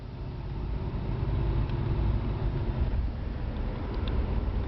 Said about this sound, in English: we're still out doing our little test drive. And speeding up here,